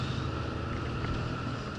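Volvo truck engine pulling hard on a motorway, a steady loud drone with a deep low rumble and broad roar held constant throughout, no voices.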